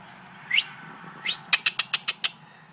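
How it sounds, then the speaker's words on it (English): Young birds in a nest give two thin rising whistles, then a quick run of six sharp, evenly spaced chirps, faint and close with no talking. "Chirp, chirp."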